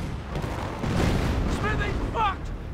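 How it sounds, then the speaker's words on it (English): A big explosive hit from a mortar half-track shell lands in Company of Heroes, a heavy rumbling boom mixed with battle noise, while a voice talks over it. "Some big hit there, probably from the mortar half track."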